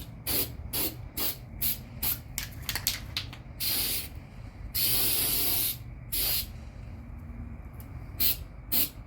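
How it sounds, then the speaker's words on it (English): Bursts of hissing spray from a sprayer aimed at the front edge of a cabinet under a sink, rapid short pumps then longer sustained blasts, close and loud over a low background hum. "I'm spraying the front of this edge"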